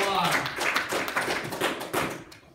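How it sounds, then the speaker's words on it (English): Church congregation clapping hands in rhythm, a run of sharp, fairly quick claps at close range over a roomy background, fading toward the end. "Somebody ought to clap your hands already"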